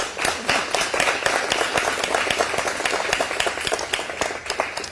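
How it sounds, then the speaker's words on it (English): An audience applauds dancers at a ballet showcase performance, a dense, sustained burst of many hands clapping at once, loud and continuous for the whole stretch. "Just let's give them a round of applause"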